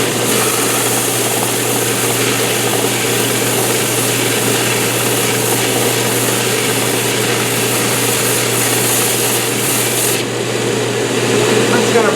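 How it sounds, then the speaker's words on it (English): A belt sander runs continuously on a solid-body guitar, a loud steady motor whine and abrasive rasp with a low hum throughout, its tone shifting slightly near the end. "I'm going to use the belt sander."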